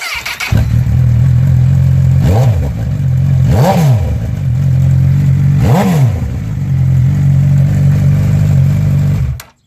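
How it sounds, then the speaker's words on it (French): A loud, unmuffled Honda CB1000R motorcycle engine with its exhaust silencer removed idles roughly, revving sharply three times, staying under 5000 rpm, before cutting off abruptly. "on va démarrer la moto, histoire de voir le bruit sans le pot"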